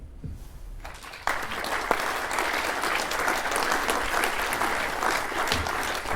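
Audience applause after a talk: a sustained, dense wash of many hands clapping, rising abruptly after a quieter opening and holding steady and loud to the end.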